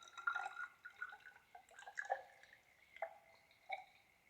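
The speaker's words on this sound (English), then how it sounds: "So we will adjust the meniscus with this distilled water." Distilled water drips into a volumetric flask in a chemistry lab to top the liquid up to the meniscus, giving a series of small, faint, irregular drips and plinks in a quiet room.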